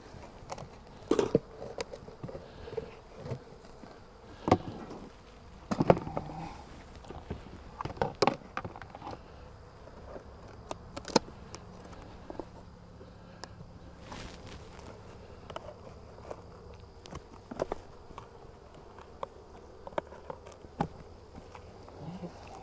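Honey bee colonies at backyard hives hum with a soft, continuous insect buzz, scattered with sharp knocks and handling clatter from nearby hive work.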